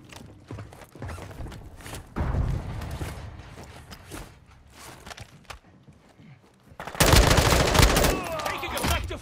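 Gunfire in a tactical video game, bursts of automatic shots and scattered single cracks with a louder sustained volley near the end, mixed with movement and mechanical clatter, mostly close and sharp.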